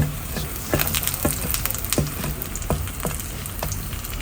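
Shallots and dried red chillies fry in hot oil, giving a steady close sizzle with small crackles and pops recurring about every half second, with no talking.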